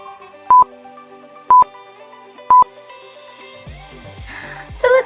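Touch-tone keypad beeps on a cellphone: three short, evenly spaced dialing tones, loud and close, over a steady musical bed that shifts midway, with one more brief tone near the end.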